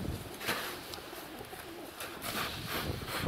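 A flock of wild pigeons coos softly outdoors while wings flutter in brief bursts, set against a steady background hiss, with no talk.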